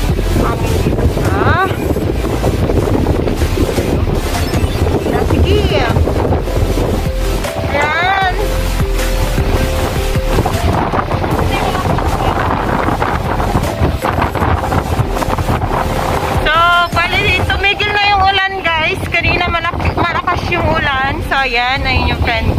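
Strong Signal 8 typhoon wind in Hong Kong roars and buffets the microphone without a break, a loud, rough rush that continues under people talking throughout.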